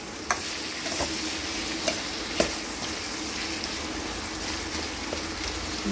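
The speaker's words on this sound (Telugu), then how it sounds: "ములక్కాయలు నూనెలో వేస్తున్నాను ఉల్లిపాయలతో పాటు." Drumsticks and onions frying in oil in a pan, a steady crackling sizzle with a few spatula knocks, close and even throughout.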